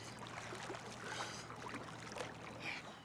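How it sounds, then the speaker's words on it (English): A faint, steady low drone of boat engines heard through water, with soft bubbling and watery hiss over it. "I'm now only hearing that sound, which are the boats"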